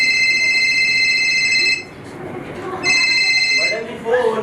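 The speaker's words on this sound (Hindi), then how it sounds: "मगर फोन बड़ी देर से बज रहा था" An electronic phone ring sounds in two long bursts with a pause between, while voices talk underneath, during a comedy stage play.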